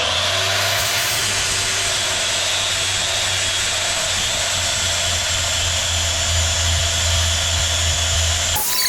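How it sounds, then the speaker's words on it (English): A 60 grit grinding wheel smooths a metal part before a burnt bronze Cerakote finish. It runs as a loud, steady, high whine with a constant low hum beneath it, unbroken for the whole clip, and no one speaks. "I'm going to start off with a 60 grit wheel and move up to a 240 right here."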